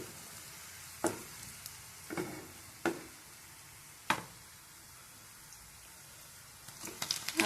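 Onions and garlic fry in a pan with a soft, steady sizzle, broken by several sharp clinks and scrapes of stirring, quiet and close with no talking.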